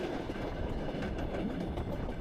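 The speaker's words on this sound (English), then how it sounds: "passing this electric commuter train from 1973, working the summer seasonal service to Lake Sevan" A 1973 electric commuter train on summer seasonal service to Lake Sevan in suburban Yerevan, heard passing as a steady, close rumble with rolling wheel noise throughout.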